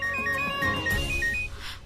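An incoming call makes a mobile phone play a bright electronic melody ringtone, short repeating tones heard close and clear for a couple of seconds against a quiet indoor background.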